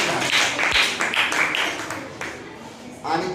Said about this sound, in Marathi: त्याबद्दल टाळ्या वाजवायच्या.